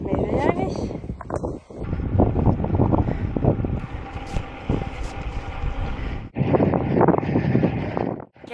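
Strong wind buffets the microphone outdoors during a triathlon-style bike ride, a continuous roaring rush with a brief drop near the middle, while someone talks over it.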